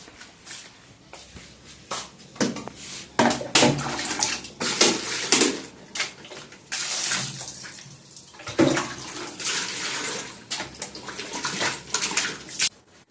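Water splashes and sloshes while a folding mini washing machine is rinsed by hand, in irregular bursts of running and pouring water with brief pauses, close and moderately loud, with no talking.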